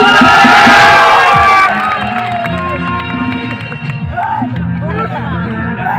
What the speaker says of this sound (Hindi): आप लोग जोरदार ताली बजाना।